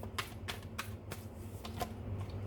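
Tarot cards being shuffled and drawn, a run of soft, quick riffling taps and snaps at close range over a low steady hum, with no talking.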